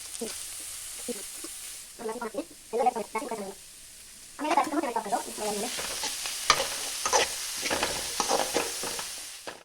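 Cabbage, carrot and sweet corn fry and sizzle in a pan while being stirred, with bursts of crackling and scraping of the spatula coming in uneven waves, close and fairly loud, and a steady hiss underneath.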